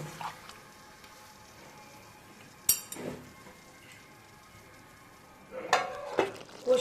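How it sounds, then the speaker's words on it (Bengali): Chicken rezala cooking in a covered pan, a quiet low sizzle broken by a sharp clank of the lid or spoon and a few brief bursts of stirring and scraping, close and without voices. "মধ্যে মধ্যে আমি ঢাকাটা সরিয়ে নেড়ে দেবো"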